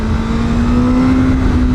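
A 2021 Honda CBR1000RR-R SP Fireblade sportbike on a tight twisty road, its engine holding a steady loud high-revving drone with a sustained tone, close and continuous, with no talking.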